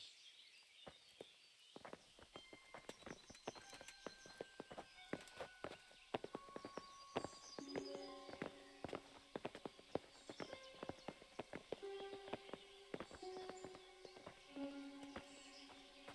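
Horses walk with steady hoof clip-clop on hard ground in a medieval game scene, a continuous run of close, crisp hoofbeats over soft ambient tones and faint birdsong, with no talking.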